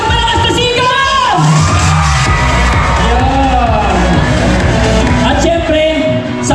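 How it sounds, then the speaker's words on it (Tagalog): A live audience at a stage performance cheers, whoops and shouts loudly, a dense, continuous roar of many voices that never lets up. "Isang malakas na sigaw!"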